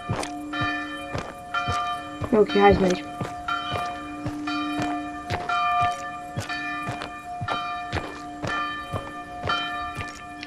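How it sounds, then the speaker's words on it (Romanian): Church bells toll at three in the morning in a village in a video game, rung as repeated strikes in a steady rhythm under a brief spoken remark, with footsteps and thuds in between. "Bat clopotele la 3 dimineața în sat."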